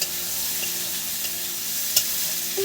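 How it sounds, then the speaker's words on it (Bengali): Potatoes and onions are stirred together in a frying pan for a fish roe and potato dish, producing a continuous close sizzle with occasional light scrapes and one sharper knock of the utensil, without talking. "এই আলুটা এই যে পেঁয়াজের সাথে ভালো করে নেড়ে চেড়ে নিচ্ছি বন্ধুরা"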